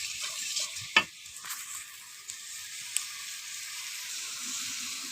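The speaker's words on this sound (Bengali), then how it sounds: "আর এখানে সব মশলা এইসব কিছু দিয়ে কষাচ্ছি।" Spices sizzle and are stirred in hot oil in a pan, with turmeric, chilli powder, ginger-garlic paste, onion and green chilli for an eggplant curry. A steady close frying hiss runs throughout, broken by a few scraping stirs, with no talking.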